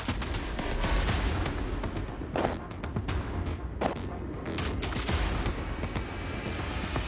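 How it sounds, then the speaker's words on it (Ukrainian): A soldier fires several gunshots in a trench battle, sharp cracks going off in a loose irregular burst against a rumbling, noisy battlefield background at moderate distance. "Він робить кілька пострілів і ховається."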